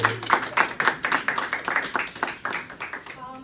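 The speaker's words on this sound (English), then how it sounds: "I think that deserves an applaud, everybody" Small group applauding, a short burst of close, rhythmic hand clapping that gradually tapers off over a few seconds.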